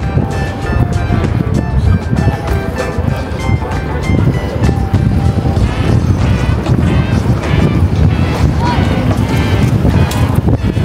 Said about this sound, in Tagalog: Puro naman naririnig nyo yung ugong ng hangin.